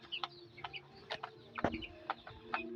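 Native Bisaya chickens cluck in a short series of quick, fairly quiet calls during feeding, with no voices.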